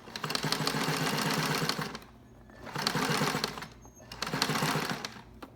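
A sewing machine stitches a fabric mask in two loud, rapid bursts of mechanical whirring and clatter, with brief quiet pauses between runs, heard up close.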